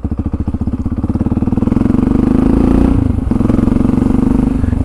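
Yamaha motorcycle being ridden, its engine thrumming in a steady pulsing drone that swells slightly mid-ride then settles, loud and close with no talking.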